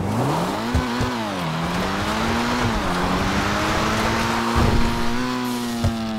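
A car in GTA Online speeds toward a ramp and goes airborne, its engine roaring steadily with rising and dipping pitch and a few sharp thumps and clanks along the run.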